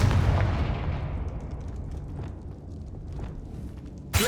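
A Confringo fire spell blast from Hogwarts Legacy booms at the start, its fiery rumble decaying over several seconds into a low crackling tail, with a sharp new burst right at the end.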